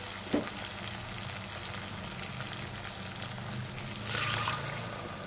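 Marinated loitta (Bombay duck) fish coated in ginger and ground spices fries in a pan, a steady close sizzle with a clink near the start and a brief louder hiss near the end, no talking.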